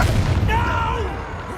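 Confringo blasting spell from a Harry Potter video game goes off as a deep low boom with a rumbling tail, a voiced spell effect swelling midway through, all over steady game ambience.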